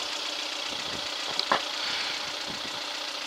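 The rebuilt engine of a 1996 Geo Tracker idles steadily at a low, even rumble, with a brief knock or clink partway through.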